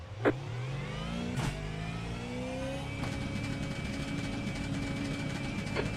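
A supercar in a racing game pulls away from the pit box, its engine climbing steadily in pitch as it accelerates hard, loud and close, with a few brief clicks early on.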